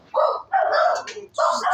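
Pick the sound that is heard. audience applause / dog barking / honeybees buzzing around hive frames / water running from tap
dog barking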